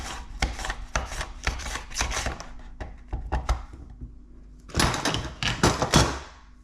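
Potatoes sliced on a mandoline with a safety guard: rapid bursts of crisp rasping strokes in quick runs, a short pause, then another brisk flurry, close and fairly quiet.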